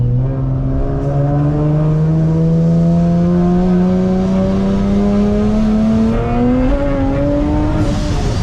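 A supercharged Infiniti G37 engine revs loud and close, its pitch climbing slowly and steadily for several seconds and then stepping up higher near the end, with no talking over it.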